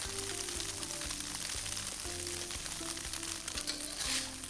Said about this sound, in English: Toss and fry the other side as well.